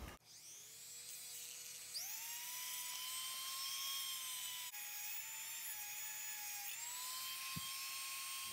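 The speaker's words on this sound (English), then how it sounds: "I'm just going to use a Dremel tool, this round barrel sander on it." Dremel rotary tool fitted with a round barrel sanding drum grinding the plastic of a Brinsea Mini II Advance incubator, a steady high-pitched whine that rises in pitch and holds, close and loud, with brief dips as the tool makes passes.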